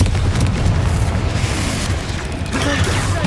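Confringo blasting spells go off in Hogwarts Legacy, a run of loud, booming explosions that merge with dense game effects and rumble across the whole clip.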